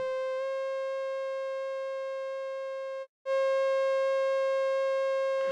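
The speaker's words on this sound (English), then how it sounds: "I want the oscillator's pure wave" A steady, pure synthesizer oscillator wave with no detune and bright overtones holds for several seconds, cuts out briefly, then resumes unchanged.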